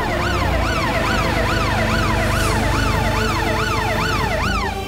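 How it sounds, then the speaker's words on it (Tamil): An ambulance siren wails in a steady rising-and-falling sweep, loud and continuous throughout, with no voices over it. "ஆம்புலன்ஸ் வந்துடுச்சுன்னு நினைக்கிறேன்"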